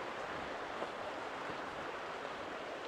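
River water flowing in rural Wales, a steady broadband rush with no breaks, moderately distant and fairly quiet, heard alone without voices.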